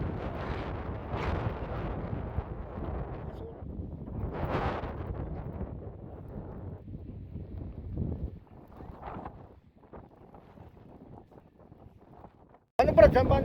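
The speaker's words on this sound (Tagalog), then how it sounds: "Uy, lakas ng hangin!" Strong wind during a snowstorm gusts and buffets against the microphone in uneven surges, with people talking over it, before an abrupt loud burst at the end.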